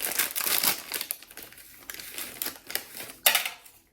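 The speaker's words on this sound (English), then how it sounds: "open up this accessories packet, see if there's anything fun in here" The crinkly plastic accessory packet of a 2018 US military MRE ration rustles and tears in several rough bursts, close up, with brief pauses between pulls.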